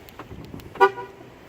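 A car horn gives a single short chirp as the vehicle is locked, a brief bright toot standing out over quiet outdoor background noise.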